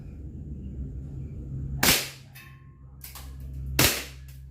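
Two sharp airsoft shots strike a homemade flap target, each a crisp loud crack followed by a short rattling slap as the flap swings back, over a low steady hum with no talk.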